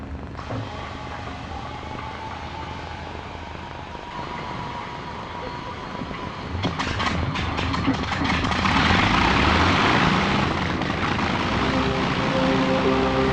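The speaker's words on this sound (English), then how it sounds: "few will fail to recognize the name, let alone the distinctive sound, of the AVRO Lancaster" Engines of an Avro Lancaster bomber drone in flight, a broad continuous roar that swells and grows louder partway through as the aircraft comes closer.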